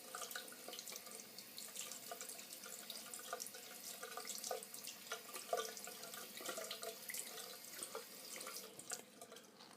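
Tap water running into a sink while dirty makeup brushes are wetted under it, a soft, steady splashing stream with small drips and shifts as the brushes move through the flow.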